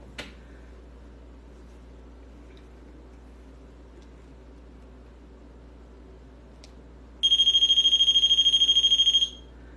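A REM pod ghost-hunting device sits in a quiet house and suddenly sounds a loud, steady high-pitched beeping alarm for about two seconds near the end after a long hush.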